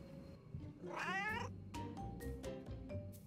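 A cat meows indoors in a new apartment, a drawn-out caterwauling cry followed by several shorter meows, fairly quiet and close, with no talking.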